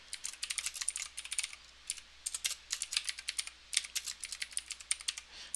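Rapid bursts of keystrokes on a computer keyboard while writing a paper in a text editor, close and clear with short pauses between runs of typing and no talk.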